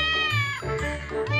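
A wet kitten in a water-themed video game meows in two or three close, loud, whiny calls, one after another.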